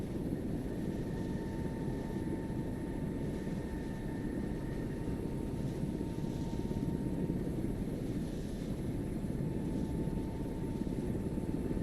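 Helicopter in the military game Arma 3, a steady dense rotor and engine roar that holds at full level throughout, with a constant whine running beneath it.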